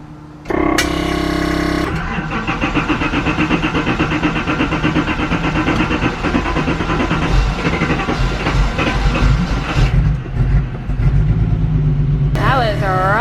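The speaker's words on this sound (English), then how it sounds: "The car sounds like it's literally barely running." Datsun 280ZX engine running rough with a leaking fuel injector, a loud, uneven rumbling idle that holds steady and close, with a sharper burst near the start and end.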